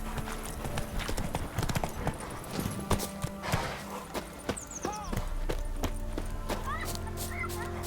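Horse hooves clip-clop in a steady rhythmic gallop in The Witcher 3, close and continuous, with bird chirps and faint voices in the background.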